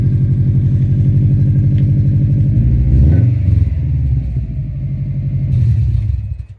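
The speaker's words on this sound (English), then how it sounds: "Subaru rumble sounds so good." Deep, steady engine rumble from a 2009 Subaru Impreza WRX, loud and close, holding a throbbing idle-like burble throughout with a slight swell in revs near the middle and again toward the end.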